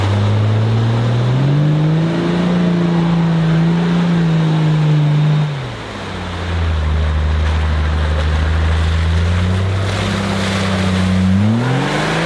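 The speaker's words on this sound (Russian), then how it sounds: "мотор шепчет" An off-road car engine revs loudly up close, its note rising and holding, dropping to a low rumble, then climbing again toward the end.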